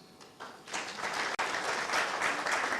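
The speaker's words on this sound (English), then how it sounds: "please give claps" A conference panel audience at an e-governance forum bursts into applause, a dense wash of clapping that swells after a brief quiet start and carries on steadily.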